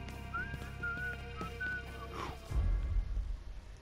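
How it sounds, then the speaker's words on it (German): Whistling in the video game Mafia III, a short melodic tune of several whistled phrases over game ambience, followed by a louder low rumble near the end. "Hier wird mir zu viel gepfiffen,"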